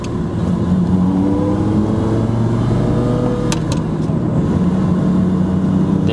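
A Lamborghini with a manual stick shift drives along, its engine giving a steady, loud low drone throughout with no clear gear changes or revs standing out.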